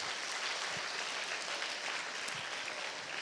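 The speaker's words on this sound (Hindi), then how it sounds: "एक बार जोरदार तालियां डॉक्टर और पुलिस के लिए होनी चाहिए।" An audience at a menstrual hygiene awareness program claps continuously for a few seconds, a dense, even patter of hands heard at a moderate distance with no voices over it.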